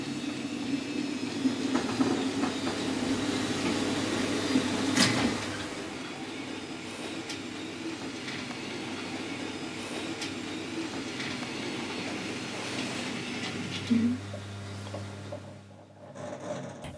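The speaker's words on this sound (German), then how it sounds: "die Lok ist voll betankt und macht sich auf den Weg zu den Wagen" A model narrow-gauge locomotive on a Saxon layout with transporter-wagon traffic sets off toward its wagons, giving a low steady mechanical hum and rattle with small clicks and a brief clunk, close and fairly quiet.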